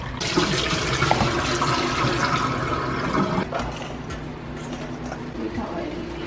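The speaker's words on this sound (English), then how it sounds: "So you rinse the mixed vegetable for about 2 times as well." Running water pours and splashes over frozen mixed vegetables being rinsed, a loud continuous gush close by with voices talking over it.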